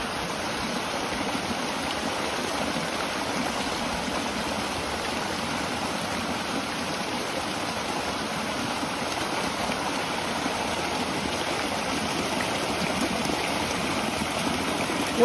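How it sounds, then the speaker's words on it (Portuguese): A stream with small waterfalls runs across a farm property, its water rushing and splashing in a steady, close, unbroken roar that holds constant throughout, with no voices. "Tem, é cheio de cascata ali para cima."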